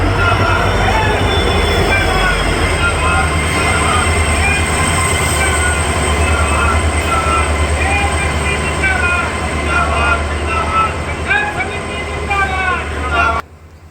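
New Loharu-Jaipur passenger train rolling on rails in the Shekhawati region, a steady close rumble with wheel squeals and clatter for the whole stretch before cutting off abruptly. Crowd noise and talk may sit beneath it.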